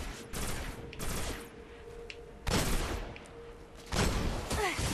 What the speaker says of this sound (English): Oh, hand cannon, baby.